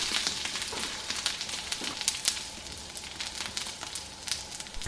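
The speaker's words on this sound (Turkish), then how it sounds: "Kısık ateşte bütün bazlamalarımızı bu şekilde pişiriyoruz." Bazlama flatbread frying in a pan over low heat gives a steady, soft sizzle with scattered crackles and pops, close and continuous, with no voices.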